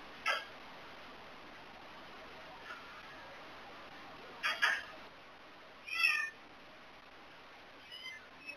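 Pet cat meowing indoors, a few short, fairly faint calls spaced several seconds apart over a quiet steady background hiss.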